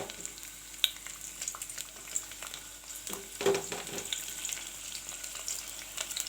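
Chopped onions sizzle with cloves in hot oil for veg pulao, a steady close frying hiss with occasional stirring scrapes and small pops.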